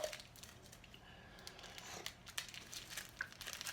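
Crinkling and rustling as makeup brushes, including a blending crease brush, are pulled from their plastic packaging, with soft irregular crackles and a few sharper crinkles, close and fairly quiet.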